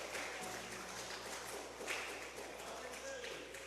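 A church congregation applauding during a worship service, a soft, even patter of many hands heard faintly and at a distance, with low sustained music tones beneath it.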